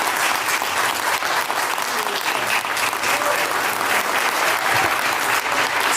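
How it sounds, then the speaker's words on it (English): Large crowd applauding loudly and continuously, a dense roar of clapping with voices mixed in, sustained without pause. "Just Trump getting the applause now."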